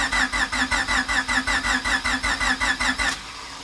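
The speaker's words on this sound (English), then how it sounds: "I'm going to go ahead and just show you the oil pressure priming it before I actually hook up the ECU and start it for the first time" A rebuilt Suzuki Vitara engine cranks on the starter to prime oil pressure, with a fast, even rhythmic churning of about five beats per second that never catches, then stops abruptly.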